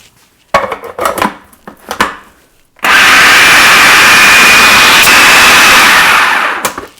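A food processor blends hummus, a loud steady motor whir that starts abruptly and runs for about four seconds before stopping, preceded by a few knocks and clatters.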